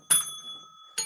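A desk bell struck twice on an interview set, each a bright ringing ding with steady overtones, the first ring fading slowly and the second coming about a second later.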